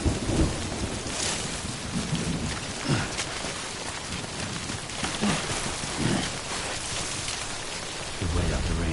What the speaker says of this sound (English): Could wait out the rain over there.